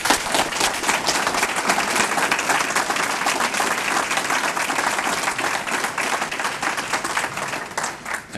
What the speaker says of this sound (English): The clapping should be for Father Quigley because he's the inspiration for it all.